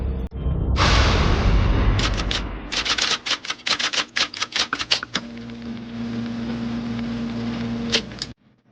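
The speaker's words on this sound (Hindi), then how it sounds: "ये सब कुछ टाइप करके" Rapid typewriter-style keystrokes tap out in an uneven burst, each click sharp and close, ending with a carriage-return ding, set within a Hindi horror tale at an engineering college.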